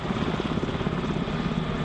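Water-bombing helicopters and planes fly over Victorian bushfire country, producing a continuous loud rotor and engine drone with a steady low pulsing throb and no voices.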